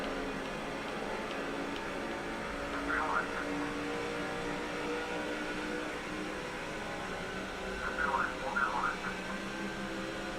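NASCAR 07 race car at Pocono, a steady engine drone running under the whole stretch, with brief chirpy tire or screech bursts around a few moments; a voice talks over it at times.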